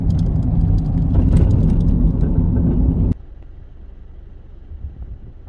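A car driving on a rural Oklahoma road produces a loud, steady engine and road roar with wind noise, which drops abruptly to a much quieter hum partway through.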